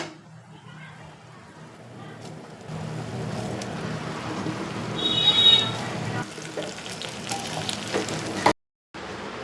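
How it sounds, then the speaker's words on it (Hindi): Okra dropped into a pan of frying onions sets off a loud, steady sizzle that swells midway, with stirring and clatter, a voice speaking over part of it, then a brief cut to silence near the end. "अब मैं इसमें डाल दूँगी भिंडी अपनी"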